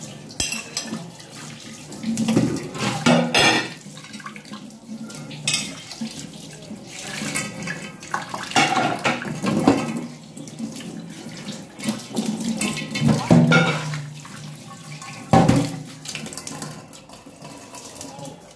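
Dishes being washed and a kitchen sink basin scrubbed under a running tap, with steady water flow broken by clinks of plates, pots and cutlery, close by and without talking.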